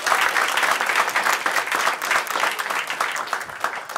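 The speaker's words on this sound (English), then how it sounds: "Pranita, big round of applause for Pranita, yeah?" A comedy club audience claps for a volunteer who has come up on stage, a steady dense burst of applause that runs for the whole stretch, close and loud, with scattered cheers mixed in.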